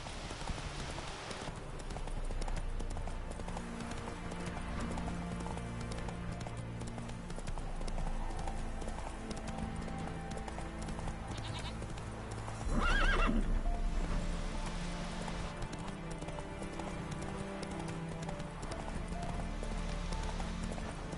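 Roach, a horse in The Witcher 3, with steady rhythmic hoofbeats and a loud neigh near the middle, heard up close over a low ambient game backdrop.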